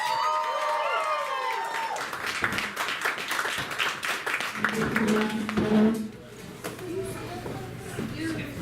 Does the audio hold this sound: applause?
yes